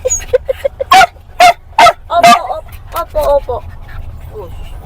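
A dog barks in a series of short, close yips and barks, first in quick small bursts and then in louder, spaced barks over about three seconds, with car noise in the background and people talking.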